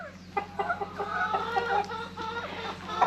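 Several chickens cluck and chatter in short bursts, close by, over a steady low hum.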